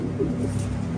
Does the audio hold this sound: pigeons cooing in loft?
yes